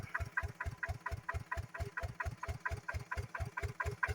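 A small water pump engine idles steadily nearby, feeding seven sprinkler heads, its rapid, even chugging pulses repeating without pause.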